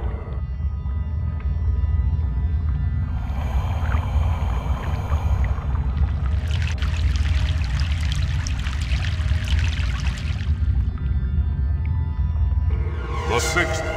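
Rushing river water in the video game Broken Sword 3: The Sleeping Dragon, a loud continuous flowing wash with swelling splashes heard during a river crossing.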